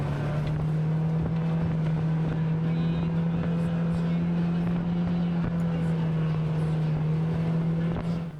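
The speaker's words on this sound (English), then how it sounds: "had us in his Polaris taking a ride through the hills" Polaris side-by-side engine droning steadily and loudly while riding through hills, a constant low hum with rumble and wind, with no pauses for the full stretch.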